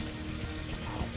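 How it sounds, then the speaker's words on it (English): Water running from a faucet in a Riverstone luxury fifth wheel RV, a steady close rushing stream with no voices. "you're going to turn on each individual faucet until the pink becomes clear"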